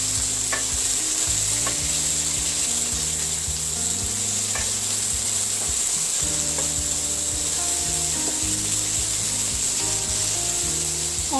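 Onions frying in a pan for a prawn and jackfruit curry, a dense continuous sizzle with repeated wooden scraping and stirring strokes, close and steady, with no talk.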